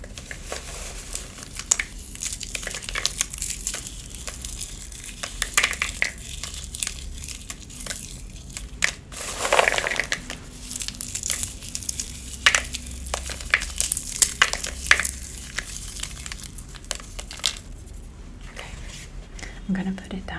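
Fingers tap and scratch on a package and crinkle peanut skins close to the microphone, producing soft, irregular rustling and crackling that rises into brief louder bursts throughout.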